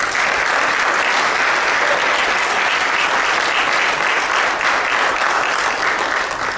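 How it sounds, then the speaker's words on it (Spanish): A church congregation applauds during a sermon, loud dense clapping from many hands that holds steady throughout. "Den un aplauso al Señor."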